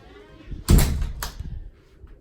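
A house door leading to a carport thumps open or shut with a heavy knock and a second, lighter bump, close and solid in a quiet room.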